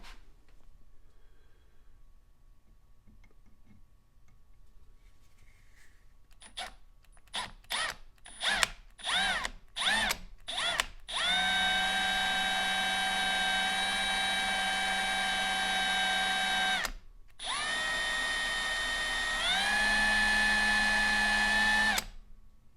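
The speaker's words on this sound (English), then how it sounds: "we're just going to drill a small dent for that base pin set screw." A small drill bit drilling into the steel of a Ruger Blackhawk revolver starts and stops in several short bursts, then runs steadily at a high whine for a long stretch before a brief pause and a final sustained run.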